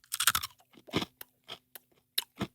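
Magic Spoon high-protein granola chewed up close, with loud, sharp crunches in an irregular rhythm of about a dozen bites and chews, alone without talk.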